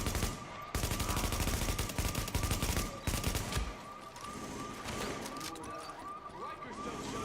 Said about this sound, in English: You just keep shooting like that.